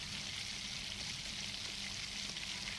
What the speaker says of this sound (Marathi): दुसरा बॅचसुद्धा मी भजीचा तुम्हाला दाखवलेला आहे घालून तो सुद्धा चांगला असं तळून घेत आहे